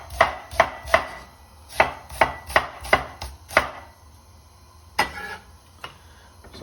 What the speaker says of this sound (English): So we're going to cut some onions.